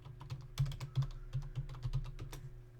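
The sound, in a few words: typing a command on a computer keyboard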